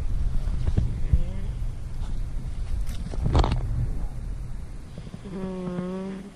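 A tired man snores early on a cold morning at a campsite during a steam and gas engine show, the faint rasping breaths partly masked by outdoor wind noise and a nearby voice.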